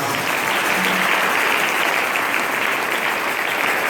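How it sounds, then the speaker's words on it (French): A church congregation applauding in a dense, continuous wash of clapping that holds steady throughout. "Sous les acclamations l'église."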